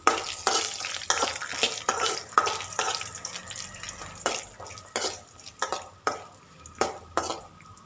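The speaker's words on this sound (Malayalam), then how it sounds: "അതും കൂടി നന്നായിട്ടൊന്ന് ഇളക്കി കൊടുക്കാം." Cashew nuts fry with coconut pieces in a pan for a sweet payasam, a spoon scraping and stirring in repeated strokes over a soft sizzle, close and moderately quiet.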